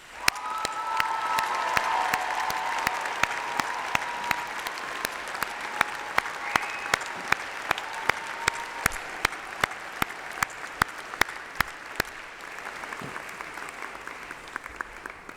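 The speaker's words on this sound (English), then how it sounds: "please join me in a massive round of applause for all those special people" An audience at a university graduation ceremony in a large hall breaks into long, sustained applause, with dense clapping and individual sharp claps standing out, tapering off near the end.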